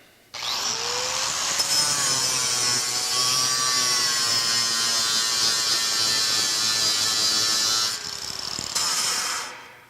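A bench grinder fitted with a 36 grit wheel grinds aluminum, a loud, steady abrasive whine held for about seven seconds close up, then cutting off as the piece is pulled away.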